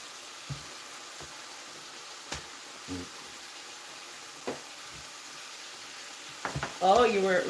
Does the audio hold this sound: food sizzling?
yes